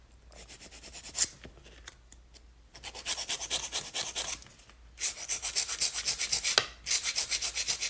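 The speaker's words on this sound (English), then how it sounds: "So when you're filing, you want to make sure that your file is straight up against the nail." A nail file filing a sharp stiletto-shaped nail: quick repeated rasping strokes in bursts with short pauses, close and fairly loud, no speech.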